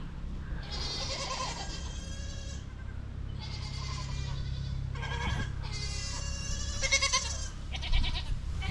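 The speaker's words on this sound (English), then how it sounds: "All the little baby goats." Baby goats bleat repeatedly in several overlapping bursts, fairly close, over a steady low outdoor rumble.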